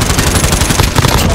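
Dense automatic gunfire from Call of Duty: Warzone bursts loudly and rapidly in a short, continuous volley.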